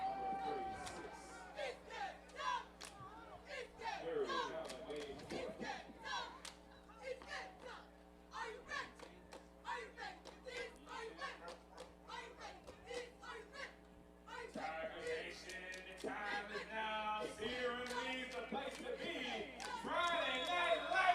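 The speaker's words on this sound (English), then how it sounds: "Pretty good crowd here on Friday night." Crowd chatter fills the stands at a Friday night Ohio high school football game between Cleveland Heights and Akron, a steady murmur of many voices throughout with a louder swell near the end.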